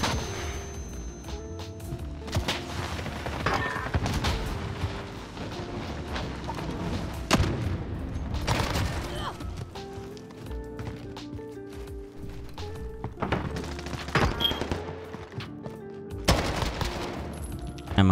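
Sustained bursts of rapid minigun fire in the Modern Warfare video game, several long rattling volleys with short gaps between them, loud and close under a busy game soundscape.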